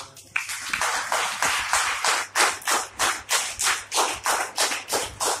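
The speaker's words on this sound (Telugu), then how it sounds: "ఒకసారి చప్పట్లు కొడదాం" A church congregation claps together in unison at a steady, even rhythm, about a dozen loud sharp bursts filling the space with no voices over them.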